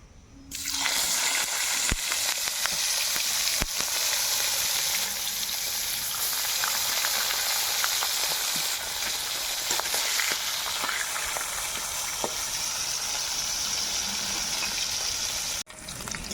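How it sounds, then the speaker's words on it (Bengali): Koi fish frying in very hot white cooking oil, a loud, continuous close sizzle and bubbling that holds steady throughout and cuts off abruptly near the end, without speech. "তেল খুব ভালো করে গরম হয়ে গেছে, এবার মাছ ভেজে নেব।"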